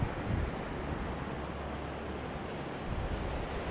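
A steady, broad roar of Atlantic Ocean surf at Canaveral National Seashore, with wind rushing across the microphone, continuous and fairly loud.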